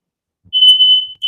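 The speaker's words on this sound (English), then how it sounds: "the smoke alarm is going off" A household smoke alarm beeps loudly, with two shrill high-pitched tones close by, the first long and the second starting at the very end, with no talking.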